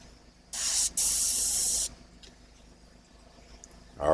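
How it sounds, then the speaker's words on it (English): Paint sprayed onto a figure gives two close, hissing bursts, a short one and then a longer steady one, in an otherwise quiet room. "Make sure you get your spray down."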